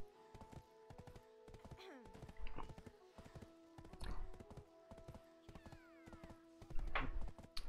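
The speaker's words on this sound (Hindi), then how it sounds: "मैं तो अपना घोड़ा चला रहा था।" Horse hooves clip-clop steadily while riding in the MMO video game Black Desert, a brisk even rhythm with occasional snorts or whinnies and some voice underneath.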